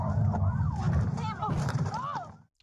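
A wailing police siren rises and falls under voices and traffic noise, moderately loud, then cuts off abruptly.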